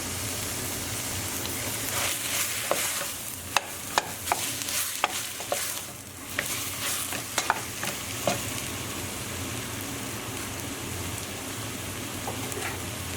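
Lamb mince sizzles and fries steadily in a hot pan while being stirred, with sharp clicks and scrapes of the utensil against the pan over a constant crackling hiss.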